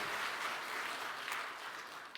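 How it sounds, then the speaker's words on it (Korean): A church congregation gathered for a New Year's Eve service applauds together, a sustained wash of clapping heard from a moderate distance, even and continuous with no voices over it. "우리 한번 박수로 하는 영광 올려드리며"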